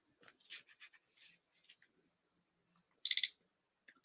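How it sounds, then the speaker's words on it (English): A painting session timer goes off in two short, bright electronic beeping bursts near the end, after faint scattered rustles in an otherwise quiet room. "Okay, there's our timer."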